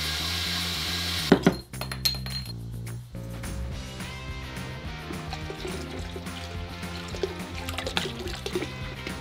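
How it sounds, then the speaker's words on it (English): Water and a bottle of beer poured over corned beef in a cooking pot in a home kitchen, with a clink of glass and metal first, then a steady gurgling pour and splashing liquid, close and moderately loud. "Now we cover it generously with water and a bottle of beer."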